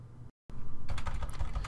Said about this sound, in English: Now I'm going ahead and typing.